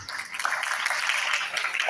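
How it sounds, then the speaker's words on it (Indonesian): Applause from a crowd at a pesantren graduation ceremony, a steady wash of many hands clapping throughout, moderately loud and continuous. "Sehingga boleh tepuk tangan untuk pesantren dulu ini."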